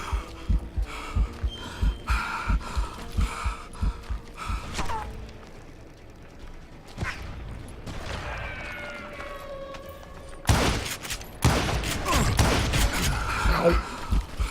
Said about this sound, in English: He's shooting me through the walls.